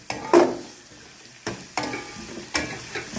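Small onions frying in a pan for a buttermilk curry, stirred in three distinct strokes, each a loud close scrape with a burst of sizzle that fades in between; no talking.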